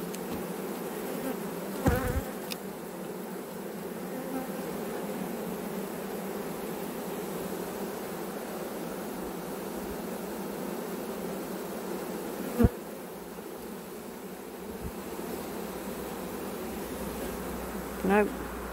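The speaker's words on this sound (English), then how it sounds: "small dark bees. But this is obviously got to be a prime swarm" A steady, dense buzzing hum from a prime swarm of small dark bees, close by and constant throughout, with a few brief knocks and clicks.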